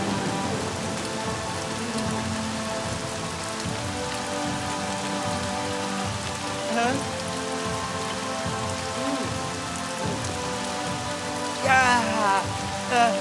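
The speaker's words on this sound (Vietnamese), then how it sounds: "Ê, trời mưa thiệt kìa." Heavy rain falls steadily in a film scene, a dense even patter on surfaces that continues without a break, with a few slightly louder splashes near the end and no voices.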